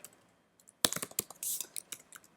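HTML is typed on a computer keyboard, a quick burst of sharp, close key clicks and one longer press after a near-silent start.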